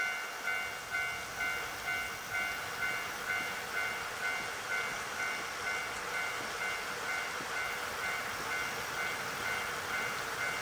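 A train waiting at a deserted station in the video game Nostalgic Train, with a steady tonal hum and a soft pulse repeating about every half second, all without voices.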